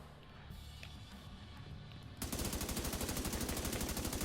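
Rapid SMG gunfire from a video game bursts in loud and steady after a quieter stretch of ambient game noise, a fast even rattle of shots continuing to the end.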